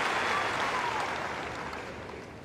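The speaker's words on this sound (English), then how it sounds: "Round of applause from..." Crowd applause at the 2013 Sydney final between Tomic and Anderson: steady, dense clapping from a stadium audience, fairly distant and broad, tapering off slightly toward the end.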